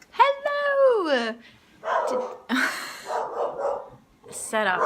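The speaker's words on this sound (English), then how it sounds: "Set off the dog alarm." A dog barks close by, giving several yelping, whimpering barks with rising and falling pitch, broken up by bursts of noisy activity in the room between them.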